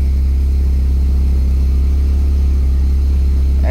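A Mini Cooper R58 JCW engine runs close and loud with a steady, deep, even hum, holding constant with no change in pitch across the short stretch.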